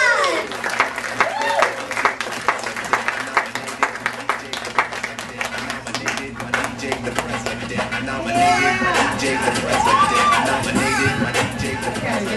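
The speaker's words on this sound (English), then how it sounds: "Give her a round of applause!" A lively comedy-show crowd claps and cheers as a female stand-up headliner is introduced, loud sustained applause mixed with whoops and shouts, while intro music with melodic slides plays underneath.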